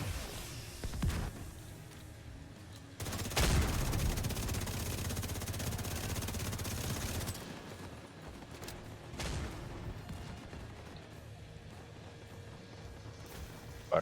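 Sustained bursts of automatic gunfire from The Division 2, dense and loud throughout, with heavier impacts near the start and brief louder shots scattered later.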